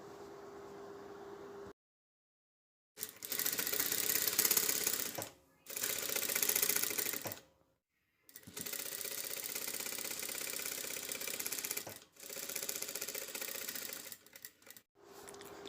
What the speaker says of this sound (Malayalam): ഇനി നമ്മൾ ലൈനിങ്ങിൽ ആ ഒരു പീസ് സ്റ്റിച്ച് ചെയ്ത് പിടിപ്പിക്കാൻ പോവുകയാണ്